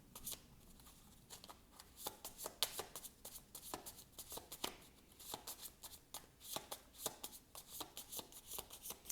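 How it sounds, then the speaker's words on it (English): Tarot cards are shuffled by hand in quick, quiet riffles and flicks, a soft, close, irregular patter that continues steadily. "So let's see, one more shuffle."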